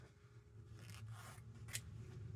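Scissors cut through fabric for a spring-themed stitched wall art panel, giving soft, close snipping and rasping blade sounds with a couple of brighter cuts near the end, heard alone at a low level.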